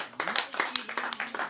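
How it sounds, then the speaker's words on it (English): Scattered clapping from a small live audience for a man who has just shared a testimony, a quick irregular patter of hands with a faint tonal hum underneath. "Let me hear you clap again there for Mike."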